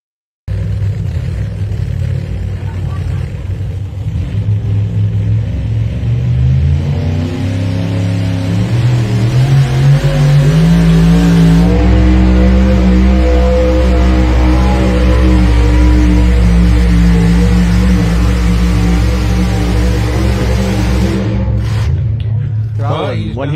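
A Mad Max two-wheel-drive pulling truck at a power pull roars down the track, its loud, heavy engine climbing steadily in pitch under a continuous rumble before cutting off sharply near the end.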